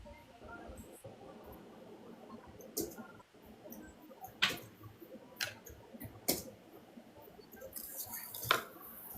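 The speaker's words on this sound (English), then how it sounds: "Cute bubbles." Small bubbles rise in a home aquarium holding starfish and seahorses, giving sporadic soft pops and ticks over a low steady hum, with faint voices in the background.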